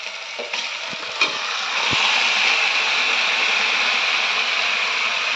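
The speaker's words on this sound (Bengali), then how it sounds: "এর মধ্যে যে ম্যারিনেট করা যে মাংসটা রেখে দিয়েছিলাম সেটা দিয়ে দেব।" Marinated chicken hits hot oil in a pan for chicken posto, giving a loud, steady sizzle with a few scraping knocks of stirring early on, close and alone.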